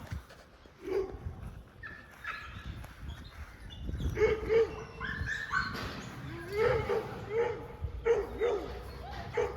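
Pit bulls (APBTs) and American Sentinels in an outdoor dog yard bark, yip and whimper in scattered bursts, some near and some farther off, while people talk nearby.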